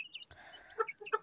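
Hens kept in a small balcony coop give a few soft, short clucks in quick succession, close but faint, against an otherwise quiet background.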